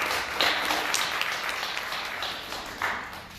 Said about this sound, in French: c'est Michel Soro, je vous demande de l'applaudir.